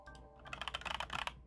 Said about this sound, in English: This is as quiet as this brand of keyboard gets.